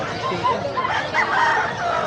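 Chickens cluck and chatter together at close range at a pet market, a busy, overlapping flock sound with some indistinct murmuring mixed in.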